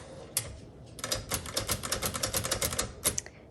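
A 1970s Adler J5 typewriter's tab clear lever pressed, setting off a quick, close run of crisp metallic clicks and rattling ratchet ticks lasting a couple of seconds.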